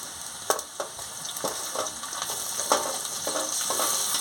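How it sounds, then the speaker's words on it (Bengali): Coriander, cumin, dried chili, ginger and chopped tomato fry together in oil for a fish curry, a close steady sizzle with intermittent sharp taps and scrapes from stirring. "মশলাটাকে ভালো করে ভেজে নিচ্ছি"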